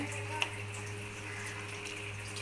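Water pours steadily into a cooking pot of pepper chicken, a continuous close splashing flow with a faint clink at the start.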